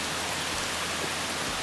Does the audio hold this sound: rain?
yes